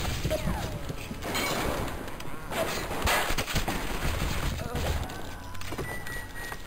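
Gunfire in the video game BioShock, rapid loud shots and impacts in a chaotic firefight, with crashes and thuds and some voices mixed in.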